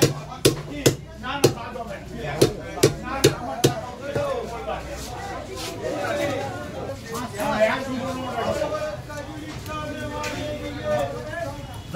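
A knife chopping bagda prawns at a fish market, several sharp evenly spaced whacks at the start, then market chatter and talk carrying on with no further cuts.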